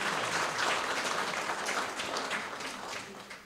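Warm applause from a concert audience after a violinist's performance, thick continuous clapping that holds steady and then slowly tapers off.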